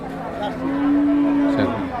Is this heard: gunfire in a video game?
no